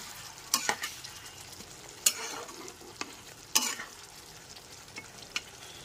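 Fried potatoes stirred into a soya chunk curry in a pan, a soft steady sizzle broken by several sharp scraping clinks of the spoon, close and alone.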